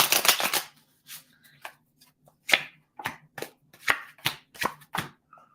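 Playing cards shuffled by hand at close range: a quick riffle burst at the start, then a steady series of separate crisp card slaps and flicks, with a faint low hum underneath.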